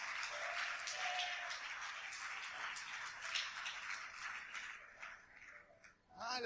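Church congregation at a Portuguese-language service applauding, a continuous mass of clapping that holds steady and then tapers off near the end, followed by a brief rising vocal sound.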